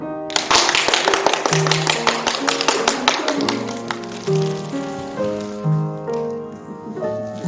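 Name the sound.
congregation applauding a newly baptized member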